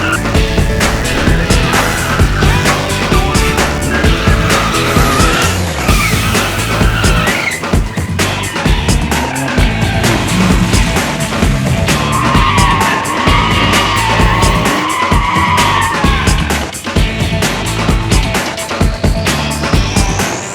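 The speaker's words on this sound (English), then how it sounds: "Welcome to the first BMW Car Club Gauteng waterless skid pan for 2025." BMW cars skid around a waterless skid pan at a BMW Car Club Gauteng event, the tires squealing and wailing loudly for long stretches over revving engines, the screeches rising and falling continuously with almost no pause.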